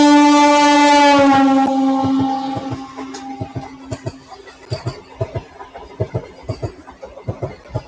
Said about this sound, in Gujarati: train number 26901 Sabarmati Veraval Vande Bharat express